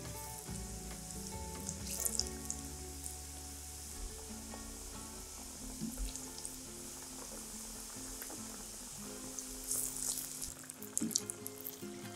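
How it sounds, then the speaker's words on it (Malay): Curry puffs fry in hot oil that sizzles and crackles steadily at a low level, with faint clinks and shifting bubbles throughout. "Bila dah betul-betul panas, barulah masukkan karipat, goreng sampai kekuningan kedua belah bahagian."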